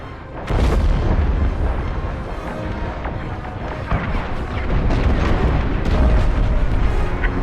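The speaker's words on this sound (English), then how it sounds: "The frigate is about to explode." A frigate blows apart in the Star Wars Squadrons space combat game, a loud, sustained rumbling explosion with a sharp onset, heavy low booms and crackling debris bursts rolling on for several seconds.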